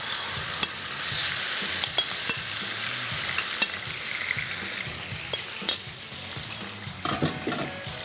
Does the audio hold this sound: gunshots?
no